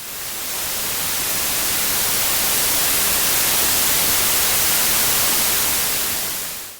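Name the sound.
stereo pink noise test signal raised slowly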